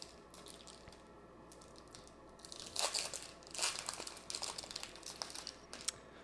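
Pokemon card booster pack being torn open by hand: faint crinkling and ripping foil, a few sharper tearing bursts in the middle, close and quiet with no talking.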